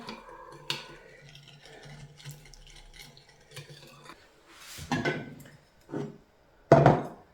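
A spoon stirs dissolving jelly in hot water in a bowl with scattered light clinks and sloshes, ending in a few louder knocks against the dish.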